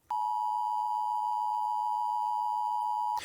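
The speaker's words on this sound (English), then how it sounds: "When an alert is issued, a loud sound will play several times." A loud emergency alert tone sounds on a captioned phone, one sustained steady electronic beep holding for about three seconds, then cutting off sharply, clear and alone.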